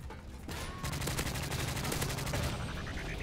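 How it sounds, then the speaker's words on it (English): Gunshots in Modern Warfare 3 Ground War, a rapid, evenly spaced burst of close automatic fire that starts after a brief pause and runs to the end. "Those shots registered pretty well"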